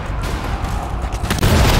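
Gunfire in the co-op shooter GTFO: a loud, dense, rumbling volley that breaks briefly and then resumes even heavier, close and forceful.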